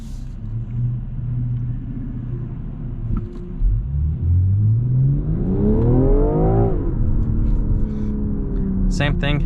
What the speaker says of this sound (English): I'm just gonna go ahead and hit the gas and see how it does.